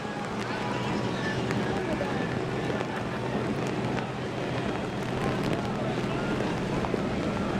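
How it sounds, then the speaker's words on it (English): Steady, dense roar of heavy rain with wind buffeting at an outdoor drifting competition in Long Beach, continuous and loud throughout without letup. "It is windy and the rain is dumping."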